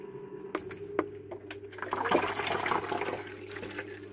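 An ice maker pump pushes water out: gurgling and splashing with a few sharp clicks, then a sustained rushing flow over a low steady hum.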